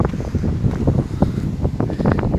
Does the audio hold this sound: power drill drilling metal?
no